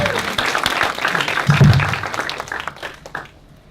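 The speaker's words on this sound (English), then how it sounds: "Everyone, give Willis a round of applause, please." An audience at a TEDx talk in Kisumu applauds prop builder Willis in a short, loud burst of clapping that swells, then fades away over a few seconds.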